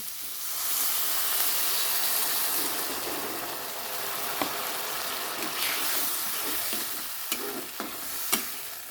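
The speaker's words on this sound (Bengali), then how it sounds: "এবার এর মধ্যে জল দিয়ে দিচ্ছি" A hot pan of paneer cooking sizzles loudly and steadily as water goes in, with a bright hissing wash, soft stirring clinks and a few sharp pops near the end.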